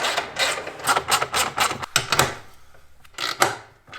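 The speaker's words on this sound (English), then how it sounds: "bolt these two together to make them one piece" Metal fan shroud pieces for an LS-swapped Defender being bolted together, a quick run of sharp clanks and rattles of bolts and metal parts, close by, with a short pause before a final knock.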